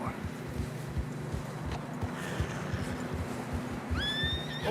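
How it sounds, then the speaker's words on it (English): Horses in fresh snow in Red Dead Redemption 2 make strained whinnies over steady hoof plods, and a sharp high neigh rises near the end, with voices talking underneath. "Horses struggling."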